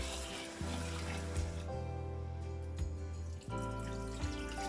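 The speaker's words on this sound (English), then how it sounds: "three small cups like this of rice, and I was starting washing it. I will give it a good wash." Rice being washed in water in a steamer pot, with steady running water and swishing that continues alone and fairly loud throughout.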